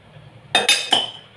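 A metal kadhai (wok) is shifted on a kitchen stove while Maggi noodles cook, giving three sharp, close metallic clinks in quick succession against a quiet background.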